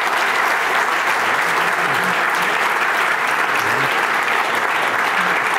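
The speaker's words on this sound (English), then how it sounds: "We give a round of applause to the panelists" An audience applauds panelists at the close of a central banking policy forum, a loud, sustained and even roar of many hands clapping, with faint voices and murmurs underneath.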